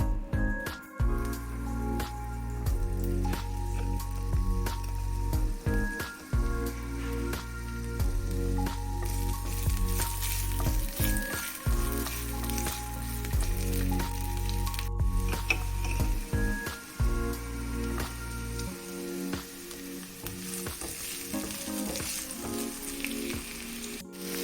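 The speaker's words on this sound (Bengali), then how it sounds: "এবার প্যানেতে আবার একটু তেল দিচ্ছি, দিয়ে এবার রসুন পেঁয়াজ ওইগুলো এবার ভাজবো।" Garlic and onion frying in a little oil in a pan, a continuous sizzle heard beneath prominent background music throughout.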